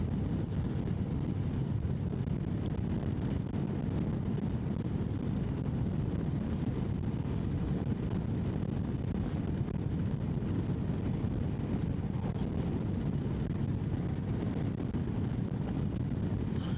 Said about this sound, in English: I'm going into a headwind now, so it's pretty freaking bad.